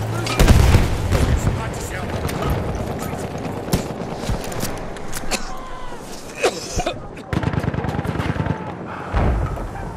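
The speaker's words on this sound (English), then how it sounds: "It's grenades for them!" Grenade blasts and gunfire in the Battlefield 1 video game, with a heavy boom up front followed by scattered shots and bursts of dense battle noise and game music, under occasional voices.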